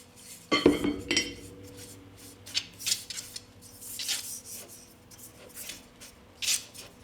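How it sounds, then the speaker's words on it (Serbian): A frying pan handled and greased with oil, an opening metallic clank followed by scraping and rubbing strokes against the pan, intermittent and close in a quiet kitchen. "Sad će mi trebati jedan tiganj i njega ću podmazati sa uljem"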